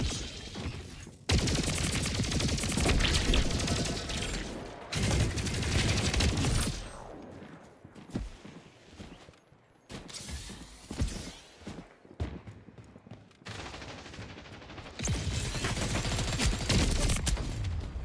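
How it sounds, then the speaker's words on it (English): Rapid SMG gunfire in the shooter game Splitgate 2, dense automatic bursts in long loud stretches broken by brief quieter gaps, with fast overlapping shots from several weapons. "guess these guys are all using SMGs today, huh?"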